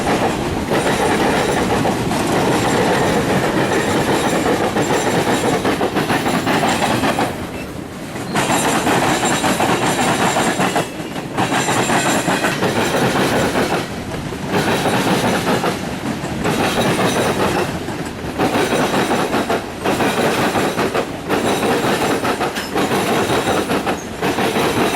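Loud, close freight train hauling loaded coal cars rolls past, continuous rumble and wheel noise broken by regular rhythmic clickety-clack gaps between cars, with some wheel squeal.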